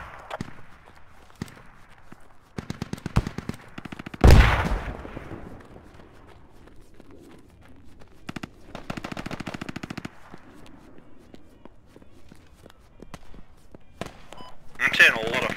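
Squad gameplay with bursts of automatic gunfire and single shots over several seconds, one loud blast mid-clip, footsteps and radio chatter between volleys at varying distances.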